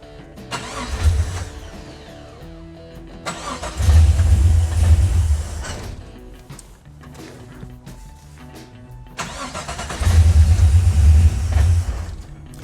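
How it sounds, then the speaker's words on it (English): An LS-swapped Datsun 280Z engine roars up in three loud, heavy bursts, each surge of low rumble sagging back as it stumbles and nearly dies between them, with no talk over it. "Anytime I give it any throttle, it shuts down."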